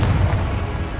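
A heavy, booming spell blast from Confringo in Hogwarts Legacy rolls out loud and low, one sustained rumbling burst with no talking.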